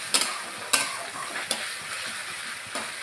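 Spice paste (masala) being fried in a pan for a banana-stem dal, a soft steady sizzle broken by a few sharp taps and scrapes of a spatula, fairly quiet and without talk.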